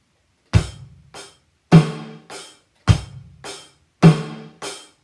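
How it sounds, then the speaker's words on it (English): Drum kit playing a one-bar rock beat with a fill, heard alone as four strong, evenly spaced kick-and-snare hits, each followed by a softer cymbal-edged stroke, close and loud with quick decays. "So 1 bar rock beat plus that sounds like this."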